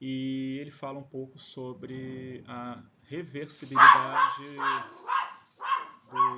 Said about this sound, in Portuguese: desculpa pelo cachorro, tá?